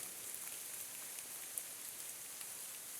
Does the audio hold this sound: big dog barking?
no